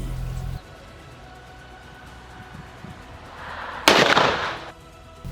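A Hatsan BTS-12 bullpup shotgun fires a single loud, sharp blast that trails off over nearly a second against a low background hum.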